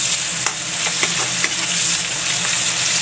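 Shrimp aromatics sautéing in margarine in a home kitchen pan give a steady, close frying sizzle with a few scraping stir strokes, with no talking over it.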